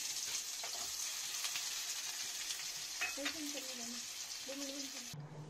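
Onion sizzles in hot oil for a Punjabi kadhi tadka, a continuous close frying hiss with stirring scrapes and faint background voices.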